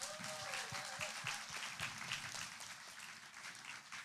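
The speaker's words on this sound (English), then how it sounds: "why don't we give them one more round of applause" Audience applause at a live youth bluegrass contest in Branson, Missouri: a steady, dense round of clapping from a crowd, fairly loud and continuous for the whole stretch, easing slightly toward the end.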